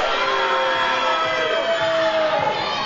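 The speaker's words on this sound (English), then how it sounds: "you can really hear the crowd showing their disapproval of Jordan Kage" A wrestling crowd boos Jordan Kage during his AML Prestige Championship match against Brandon Scott, a sustained roar of jeers and yells that fills the arena, loud and continuous throughout.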